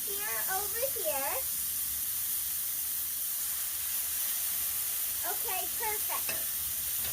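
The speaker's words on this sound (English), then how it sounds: "Okay, so we're going to let these sear over here." Ribeye steaks sear on a Blackstone griddle with a steady, close, broadband sizzle that runs unbroken throughout, while a voice speaks briefly at the start and again near the end.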